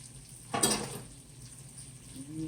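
Onions sizzling and browning in a pan, a soft steady fry with a brief louder hiss as they are stirred, close and quiet.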